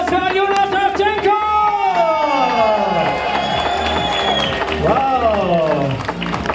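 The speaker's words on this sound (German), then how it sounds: "ein großer Applaus" Loud crowd applause and cheering at a homecoming reception for skier Johannes Rydzek in Oberstdorf, Germany, fill the space, steady clapping with shouts rising over music throughout.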